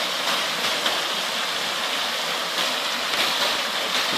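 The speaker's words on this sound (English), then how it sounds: "I usually hear some water falling over in this direction, but nothing like this." Steady broadband rush of water spilling over a small fall along a stream downstream from a larger waterfall, continuous and fairly close with no voices.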